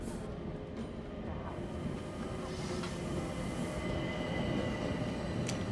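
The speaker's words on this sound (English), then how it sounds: "Is everything aboard the train, Hector" The Orient Express train runs steadily on its rails with a continuous rumble, rolling wheel noise and occasional faint squeals, heard alone without talking.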